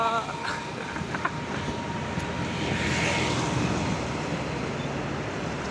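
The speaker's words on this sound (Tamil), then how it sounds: "லாரி கூட ரேசஸ்ன்னு வரான்" A lorry passing on a road during a bicycle ride between Ennore and Villivakkam, heard as a loud broadband rumble and wind-like roar that builds and peaks midway before easing, with a voice talking over it.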